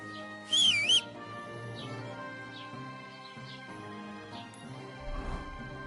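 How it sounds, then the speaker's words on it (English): Someone whistles a short, warbling burst of about half a second, loud against a soft bed of sustained tones, in a medieval setting. "What are you whistling for?"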